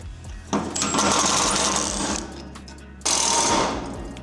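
A power tool whirs loudly in two bursts, the second starting after a short pause, each running steadily before winding down.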